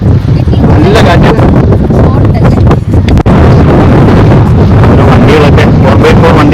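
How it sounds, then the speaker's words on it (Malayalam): Strong coastal wind buffets the microphone on a beach access road near the Castle Point lighthouse, a loud, gusty roar with sharp thumps and bursts throughout. "നല്ല കാറ്റുണ്ട്."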